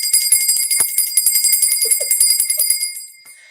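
A bright bell rings continuously for about three seconds, ringing in rapid repeated strikes with a shimmering tone, loud and close, then fades out.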